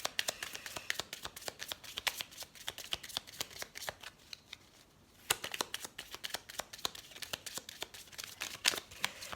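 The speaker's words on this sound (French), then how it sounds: "Alors, on va tirer la carte synthèse pour voir un petit peu." Tarot cards are shuffled by hand in rapid crisp riffling flicks, close and fairly quiet, with one brief pause midway before the shuffling resumes.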